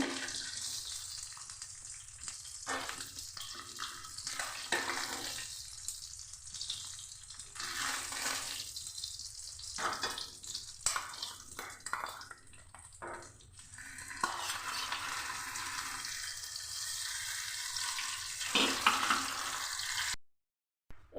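Fish fat frying in hot oil, a continuous loud close sizzle and crackle that swells and fades in waves, with no voices.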